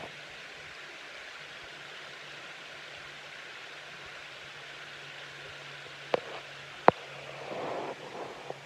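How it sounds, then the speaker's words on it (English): A creek flowing beside a campsite at Albert Pike at sunset, a soft, steady rushing hiss of water that continues throughout, broken by two sharp clicks near the end. "just sitting here listening to the creek flow."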